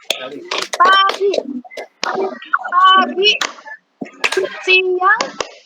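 Sharp hand claps punctuate children's and a teacher's voices in an Indonesian classroom clapping game, the crisp claps landing in small bursts between chanted words.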